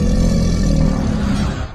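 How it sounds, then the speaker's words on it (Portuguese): Werewolf growling sound effect, a deep, loud, rumbling snarl sustained for under two seconds before fading slightly at the end. "Rosnados."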